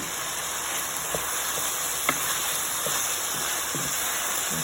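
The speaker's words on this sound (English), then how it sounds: "Continue to stir." Celery and cabbage with habanero sizzle steadily in a pot, with a constant hiss and occasional soft scrapes and knocks of a spoon stirring, close and moderately loud, no talking.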